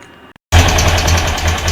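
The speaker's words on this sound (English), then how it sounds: "the engine's running now" A VW air-cooled engine fitted with twin Solex 32 PDSIT carburettors settles into a steady, loud idle after a brief quiet gap, with a low throbbing hum and a fast, even mechanical patter.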